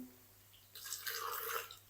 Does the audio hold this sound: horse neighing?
no